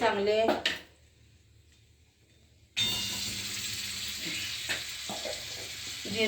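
Cumin seeds fry in hot oil with a bright crackling sizzle that starts abruptly after a short quiet gap, preceded by a voice and a metallic pan clink, with faint clatter through the frying.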